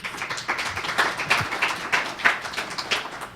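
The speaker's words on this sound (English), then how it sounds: "give Kesha a round of applause" A smaller round of applause from a summit audience, with individual claps distinct and uneven rather than merged into a roar, fairly close and moderately loud, with no talk over it.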